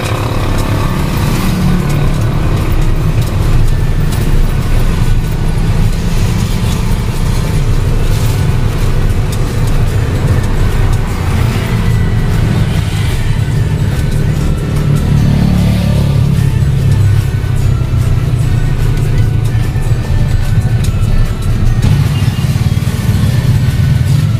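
Steady road traffic around a Kuda Lion e-bike on a school service run, with a continuous engine and vehicle rumble that holds loud and close throughout and passing cars swelling in and out, no talk.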